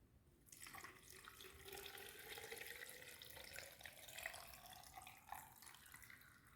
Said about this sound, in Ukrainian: доливаємо воду